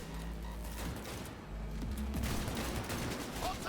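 Gunfire during a car chase in Cyberpunk 2077: a dense, continuous rattle of shots over a loud engine drone and game music, with bursts of impacts and clanks, and no talk within the moment.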